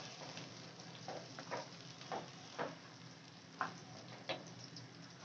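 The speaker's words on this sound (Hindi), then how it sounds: "हमने जो प्याज पीसी थी वो हम इसमें ऐड कर लेंगे और चम्मच चलाएंगे 1 मिनट के लिए" Ground onion paste fries in a pan for moong dal badiyan and aloo, a low steady sizzle broken by soft spoon scrapes and clicks at irregular intervals as it is stirred.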